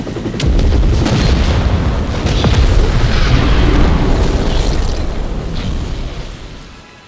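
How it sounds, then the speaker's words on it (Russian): A powerful explosion in the survival horror game Cold Fear: a deep, rumbling boom that swells in and roars on for several seconds before fading out, with no voices. "На фоне раздается мощный взрыв"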